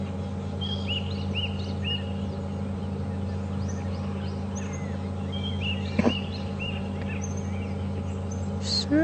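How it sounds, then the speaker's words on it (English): Small birds chirp in the bush during a sunrise safari drive, faint scattered tweets over a steady low vehicle engine hum, with a sharper call near the end. "I have been hearing a few chirps on the left-hand side here"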